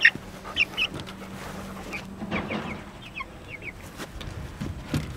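Backyard chickens clucking inside a chicken tractor, a few short faint clucks and calls scattered over steady background noise.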